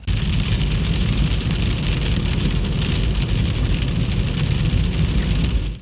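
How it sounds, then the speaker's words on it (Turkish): Steady, dense rain falls in Düzce, a loud continuous hiss of drops with no pauses and no voices. "Son yılların en kurak günlerini yaşayan Düzce'de günlerdir beklenen yağmur geldi."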